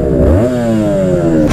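A fully restored Honda NSR250R two-stroke motorcycle engine revs loud and close, its pitch climbing sharply and then holding a high, buzzing whine.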